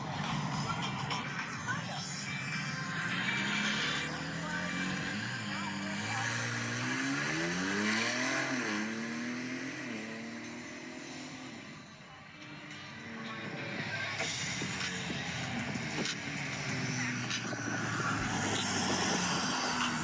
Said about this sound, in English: Here goes how the Hurricane engine sounds in this prototype car.